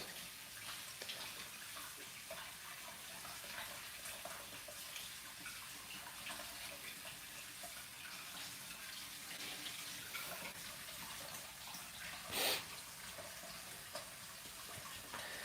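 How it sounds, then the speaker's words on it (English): Cherries being washed under a running tap: a steady, soft stream of water with light splashing throughout and one brief louder splash near the end, fairly quiet with no talk. "she is preparing some cherries, washing cherries for our survival, for food."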